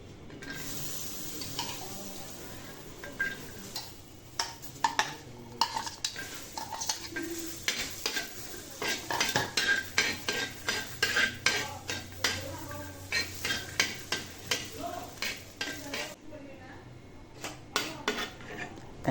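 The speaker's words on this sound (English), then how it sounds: "So here I'm gonna roast the chilies." Dried chillies roasting in a pan for a Khasi tungtap dry-fish chutney, stirred with a steady run of scraping, clattering utensil strokes over a faint sizzle, growing busier and more rhythmic midway before tapering off.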